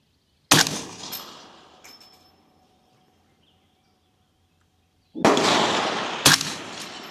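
Two sharp, loud gunshots from a 450 Bushmaster rifle fired outdoors over a grassy target area, several seconds apart, each followed by a fading echo, with near silence between them.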